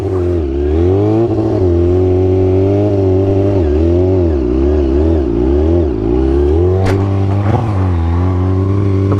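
A motorcycle engine revs hard and loud throughout as the throttle rises and falls while the bike lifts into a wheelie, pitch sweeping up and down.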